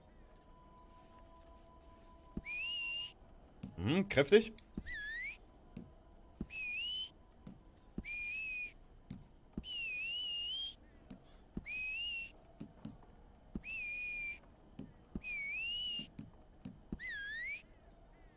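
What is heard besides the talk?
character whistle options in video game Red Dead Online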